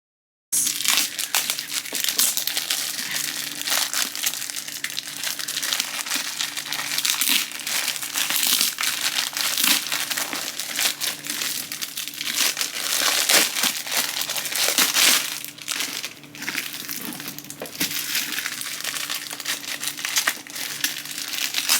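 Stiff plastic packaging crinkles and crumples almost nonstop as freezer cube trays are unwrapped close by, with sharper crackling bursts and brief tearing sounds and no talking.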